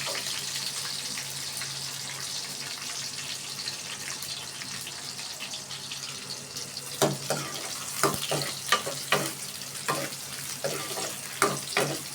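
Chopped onion for cabbage bhaji fries in a pan with a continuous close sizzle, and sharper clicks of stirring appear in the second half. No one speaks.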